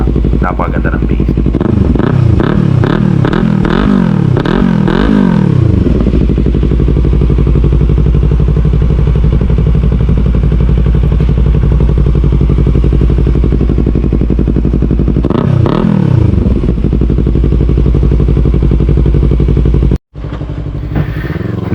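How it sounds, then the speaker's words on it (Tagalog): A motorcycle fitted with an Akrapovic M1 long exhaust idles in a low, steady, bassy rumble, with someone talking over it and brief revving bursts early and midway. "Yan yung ating Akrapovic M1 exhaust na yan yung idle, di ba?"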